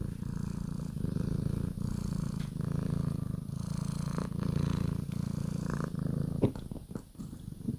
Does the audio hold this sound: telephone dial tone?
no